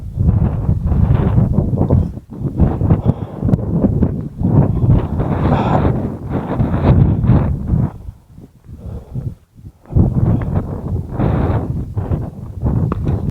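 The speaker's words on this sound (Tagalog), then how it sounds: "sobrang lakas na yung hangin" Strong, steady wind on the summit of Mount Timbak roars and buffets against the microphone, nearly continuous with a brief lull near the end before gusting hard again.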